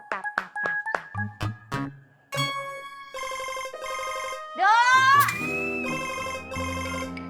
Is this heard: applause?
no